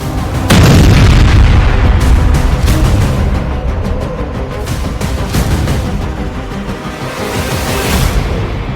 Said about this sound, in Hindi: जेलेंस्की ने उसके दूसरे हथियार गोदाम को मिसाइल धमाके से उड़ा दिया।